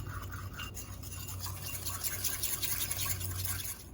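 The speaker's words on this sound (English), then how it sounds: "Just going to whisk that up with my little baby whisk." A small whisk works olive oil into a paste for roasted cauliflower, making a continuous, fast scraping and brushing sound close up for a few seconds, with no voices.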